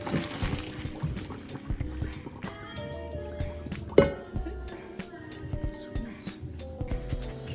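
Cooked noodles being strained in a kitchen, water pouring and sloshing out in uneven bursts with clinks of a pot or strainer, one sharp knock midway.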